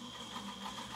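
A standard household sewing machine runs a stretch stitch, needle swinging back and forth in a steady, continuous mechanical whir that stays close and fairly loud throughout, with no one speaking over it.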